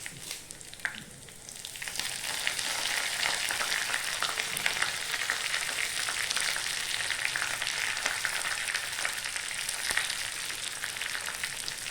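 Onions, dried red chillies and curry leaves fry in hot oil for a chicken curry with coconut paste, a dense, even sizzle that swells after the first couple of seconds and holds steady throughout.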